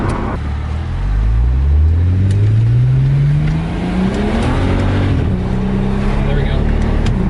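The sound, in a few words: BMW 135i engine misfiring while driving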